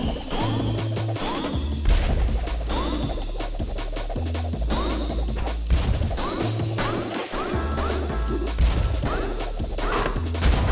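Repeated crashing and smashing hits from glass breaking in the video game Orbo's Odyssey, landing in irregular bursts over game music and effects, loud and close with no voices.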